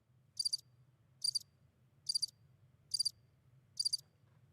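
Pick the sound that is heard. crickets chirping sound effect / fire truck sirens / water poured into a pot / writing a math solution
crickets chirping sound effect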